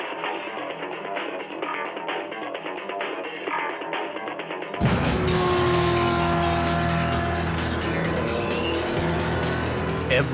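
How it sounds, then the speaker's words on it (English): Race car on the circuit at the Le Mans Classic, starting as a distant engine drone that turns abruptly into a loud, close roar with tire squeal. Faint commentary runs underneath. "the car handles the track pretty well"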